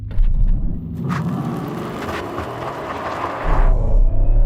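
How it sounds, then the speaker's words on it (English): A Porsche Cayenne EV launching hard under launch control, a loud, steady electric drive roar and road rumble building through the run with a brief burst of tyre or wind noise near the start. "Left foot on the brake, floor the throttle, launch control is activated."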